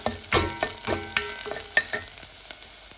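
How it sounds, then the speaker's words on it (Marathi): Onions frying in a pan while a Goan squid curry is cooked, with a faint steady sizzle under a series of sharp scraping and clattering stirs, all close by and without any talk. "आतां पियाव भाजत येयलो"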